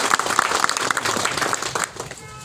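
Crowd applause at a community gathering welcoming local officials, dense clapping filling most of the clip before thinning out near the end.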